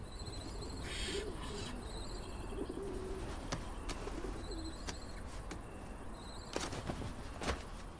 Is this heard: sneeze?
no